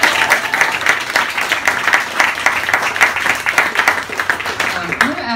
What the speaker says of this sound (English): I want to applaud that.